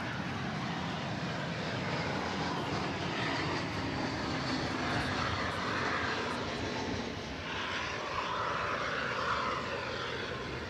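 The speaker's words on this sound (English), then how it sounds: "that was the American Airlines US Airways Heritage livery on that Airbus A340, which just arrived from San Antonio, Texas" An Airbus A340 airliner in American Airlines US Airways heritage livery arriving at Dallas Fort Worth airport makes a broad, steady jet roar that holds at an even level throughout, with no talk.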